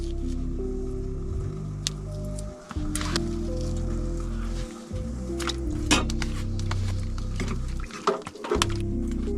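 A knife works through seasoned lamb T-bones and pieces drop into a pot on a hot tent stove, heard as soft wet squishes and light clinks over a loud continuous background hum with brief gaps.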